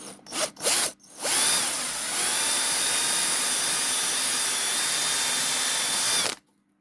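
A power drill whines steadily into the end grain of wood for several seconds after a few short bursts, then stops abruptly; loud and close, no talking.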